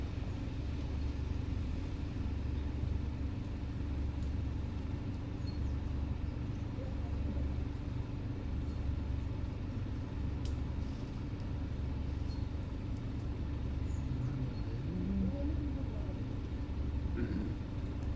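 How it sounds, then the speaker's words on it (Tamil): A vehicle idles nearby at a wildlife spot with an elephant and a deer, a steady low engine rumble throughout, while voices talk quietly over it. "வண்டி வந்துச்சு"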